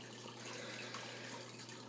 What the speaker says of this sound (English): And the little pump that's pumping, just circulating the water too as well.